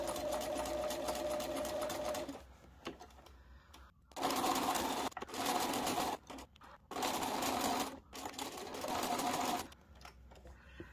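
A sewing machine stitches curves on a quilt block, running in close, loud bursts that stop and restart several times, with a voice talking between the runs.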